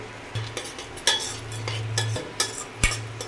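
A spoon scrapes and clinks in a pan as whole cloves, cardamom, cinnamon and bay leaves roast, with close, intermittent stirring strokes over a faint sizzle.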